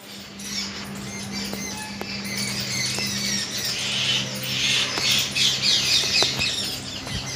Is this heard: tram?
no